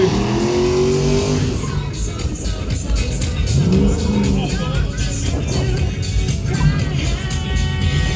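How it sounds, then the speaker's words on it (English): An LS-powered drift car smokes its rear wheels at the Hot Wheels drift show at MotorEx 2026, its engine revving hard with rising and falling pitch, loud and close, over crowd noise and a voice. "going to use advantage of the nice wide track and smoke up the back wheels. LS Power under the hood"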